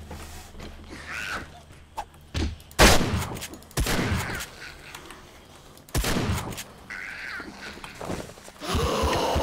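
Scattered gunshots in the survival game 7 Days to Die, several sharp loud reports spaced a second or two apart over a quiet ambient background with faint movement noises.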